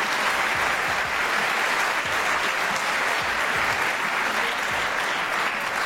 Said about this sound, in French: je pense que vous pouvez applaudir pendant les logos des sponsors.